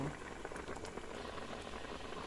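Bulanglang vegetable stew with squash and onion leaves bubbles at a steady boil in a pot, a continuous soft simmering hiss with faint bubbling throughout.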